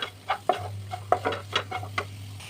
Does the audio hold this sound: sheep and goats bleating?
no